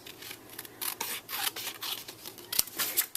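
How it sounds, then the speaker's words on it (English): Scissors snip through paper close up during a craft project, giving a run of short, crisp rasping cuts in an uneven rhythm with small pauses, plus one sharp click near the end. "I'm going to cut it out with my scissors"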